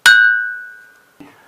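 A wooden spoon strikes a glass bowl filled with water once, giving a bright ringing ding that sustains and slowly fades over about a second, followed by a faint soft knock.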